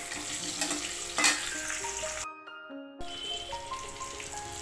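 Potatoes frying in a pan in a home kitchen give a steady, close sizzle that runs continuously, with a brief break in the middle.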